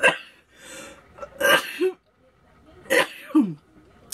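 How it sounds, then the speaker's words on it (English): A couple of close, abrupt sneezes with sharp breathy bursts and short pauses between, followed by a throat-clearing sound. "I'm gonna sneeze because that was a lot of pollen."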